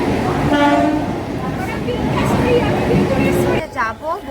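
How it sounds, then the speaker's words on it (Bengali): Trains rumble and clatter on a busy platform, with a horn sounding early on and voices talking over the steady railway noise. "এই যে দুদিকে ট্রেন এসছে।"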